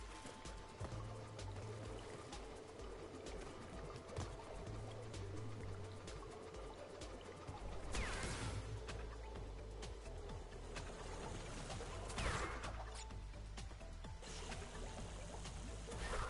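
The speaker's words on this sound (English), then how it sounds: "Look at that water effects, by the way." Flowing, splashing water effects in the video game Crash Bandicoot N. Sane Trilogy, a steady pouring wash running loud and continuous through the whole stretch with no talk over it.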